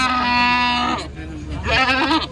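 A goat on a goat farm gives two loud, close, wavering bleats, a long one followed by a shorter one after a brief pause.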